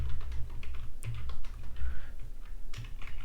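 A code comment is typed on a computer keyboard, with quick, close, irregular key clicks and a few heavier thumps, continuing without a break.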